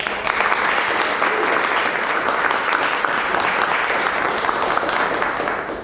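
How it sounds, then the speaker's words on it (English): A room of members at a Toastmasters public speaking meeting in Cluj gives a big round of applause, a dense, loud and even wash of clapping that runs the whole time with no one talking over it. "Please help me give Adi and Kata a big round of applause."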